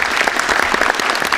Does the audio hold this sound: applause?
yes